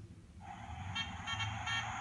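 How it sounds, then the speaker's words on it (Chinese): A pull-tab children's sound book plays a car sound effect: a horn-like toot with engine rumble, steady and close for about two seconds, with no talking. "可以听到汽车的声音"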